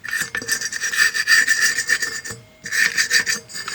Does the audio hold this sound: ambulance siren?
no